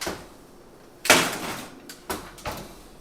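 An oven door swings shut with a solid thud, followed by a couple of lighter knocks and clicks as it settles and is handled in a quiet kitchen while keto pecan pies go in to bake.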